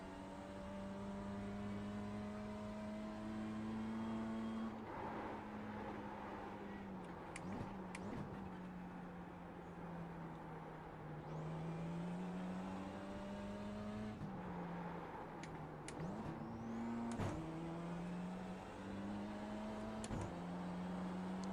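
A turbocharged race car in the iRacing sim, a steady engine drone with pitch rising through the gears and dropping at shifts, with turbo whine on top, heard from inside the car and fairly quiet overall.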